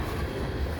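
A CN freight train made up almost entirely of tank cars rolls past as a steady, loud low rumble with no breaks in the short stretch heard.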